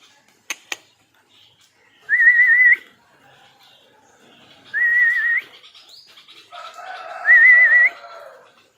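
A mother bulbul gives three separate whistled calls near her rain-soaked chick, each clear and warbling, spaced a couple of seconds apart after two sharp clicks, close by with no talking.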